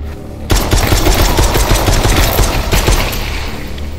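Pistol gunfire in the Propagation VR video game sounds as a loud, rapid string of close shots that starts abruptly and continues steadily to the end.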